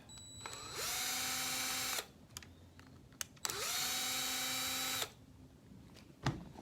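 A power driver runs twice in long bursts on the diff housing screws of a Traxxas TRX-4 front axle, each whir starting with a rising pitch and holding steady for about a second, with small clicks and handling noises between.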